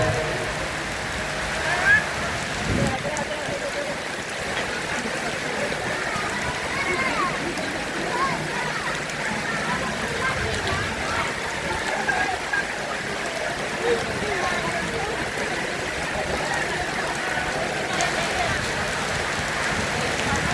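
Rain falls steadily in a continuous soft hiss at an outdoor gathering, with faint murmuring voices in the background throughout.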